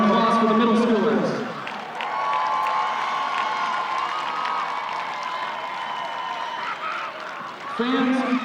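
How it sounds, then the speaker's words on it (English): Crowd cheering and applauding in the stands at a high school football game, a broad sustained roar of many voices that continues for several seconds before fading near the end. "How about a nice round of applause for the middle schoolers?"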